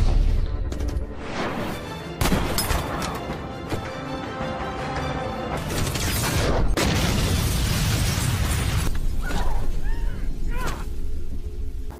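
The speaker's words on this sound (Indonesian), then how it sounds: "Sampai akhirnya, rumah itu pun meledak." A house explodes in heavy booming blasts and crashing debris that roar through dense, loud noise, with bursts and rumbles layered together over several seconds.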